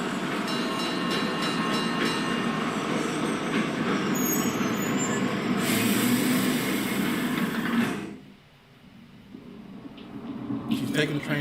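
A train in a Mario video game trailer rumbles and clatters steadily along the rails, loud and continuous for about eight seconds, then drops away briefly before the rumble returns.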